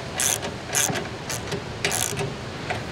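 A ratchet wrench tightens the bolts on an SPS 420 Predator mud motor kit, giving several rapid clicking bursts in an uneven rhythm, close and fairly loud over a low background hum.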